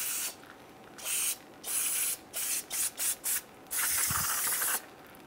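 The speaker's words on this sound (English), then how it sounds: "we sprayed it down with some brake cleaner" Brake cleaner sprayed from an aerosol can onto a car's brake hub and hardware, a series of sharp hissing bursts, some short and rapid, one long, close and clear with quiet pauses between.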